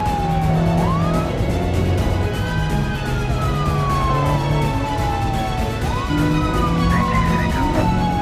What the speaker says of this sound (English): The chase took them onto a rough and bumpy road, where the driver began to struggle with controlling the vehicle.